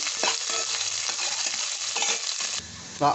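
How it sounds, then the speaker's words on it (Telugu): Green chillies and chopped onions hiss steadily in hot oil in a pan for a brinjal masala curry, with a spoon stirring and scraping through them in short strokes, loud and close, no voices. "కడిగి పెట్టుకున్న పచ్చిమిర్చి అలాగే ఆనియను ఇవన్నీ యాడ్ చేసుకొని మంచిగా కలుపుకోవాలి"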